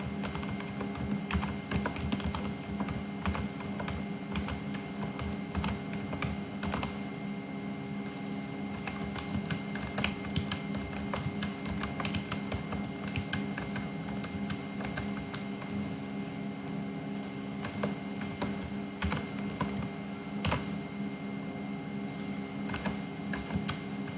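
Rapid, uneven clicking of keys on a computer keyboard, close and fairly quiet, with bursts of keystrokes and short pauses and no talking.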